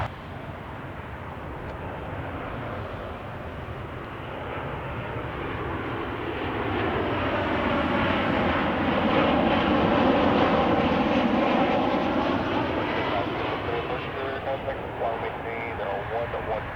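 A Southwest Boeing 737-8H4 airliner arriving from Baltimore passes overhead with a loud jet roar that builds, peaks and then slowly fades in the open air, and a voice talks over it.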